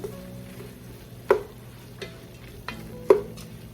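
A Cajun seafood gumbo base with lobster bouillon cooks down in a pot, a low steady simmer under four distinct spoon scrapes and taps spaced about a second apart.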